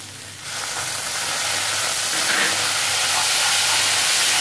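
Vinegar hits hot fried masala for a duck egg curry and erupts into a loud, steady steamy sizzle and hiss that starts abruptly and holds close and constant.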